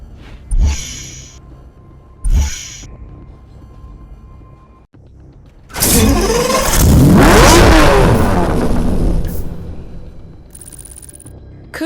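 A Countach engine in Need for Speed Hot Pursuit Remastered gives two sharp startup blips, then a loud sustained rev that climbs, holds and falls away over several seconds, with no talking.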